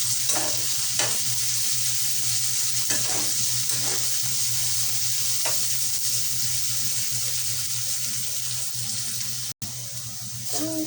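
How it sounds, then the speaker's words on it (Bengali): Onions with a little salt frying in a pan, with steady close sizzling and a few scraping stirs of a utensil, heard alone without talk. "পেঁয়াজটা ভালোভাবে ভেজে নিয়েছি"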